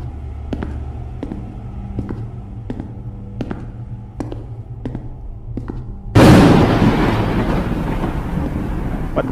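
In the horror video game Mortal Decay, a sudden loud crack of thunder breaks in and rolls on as a broad, noisy rumble, after a run of soft, evenly spaced clicks.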